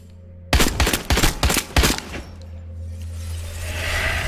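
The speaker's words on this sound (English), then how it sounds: "Chris Redfield is unloading a round into Mia's face" Chris Redfield fires on Mia in a Resident Evil Village trailer, a string of five sharp, loud gunshots in quick succession, followed by a low rumbling drone that lingers as the shots fade.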